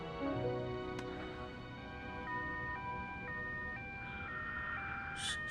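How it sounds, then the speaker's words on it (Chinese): Ambulance siren played as a sound effect, a faint two-tone wail alternating steadily in pitch over a low background hum, with no talk over it. "怎么会有救护车的声音呢？"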